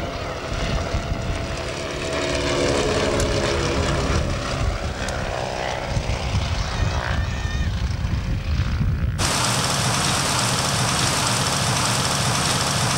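A Dutch-designed pocket tri-motor aeroplane with Wright Whirlwind radial engines drones steadily at an air show in Ardmore, New Zealand, its propellers thrumming loudly and continuously nearby, with the engine tone shifting partway through.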